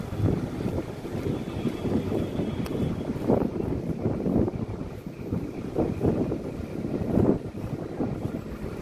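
Strong wind buffets the microphone in steady low rumbling gusts, with a broad roar and occasional louder surges throughout.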